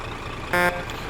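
A Scania R620 truck in the Euro Truck Simulator 2 video game gives one short, loud horn-like tone blast lasting about a fifth of a second over a steady low rumble.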